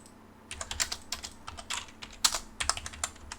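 Rapid AutoCAD shortcut keys tapped on a computer keyboard, a quick irregular run of crisp close clicks with brief pauses, no voices.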